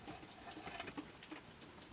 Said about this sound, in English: It is still raining off and on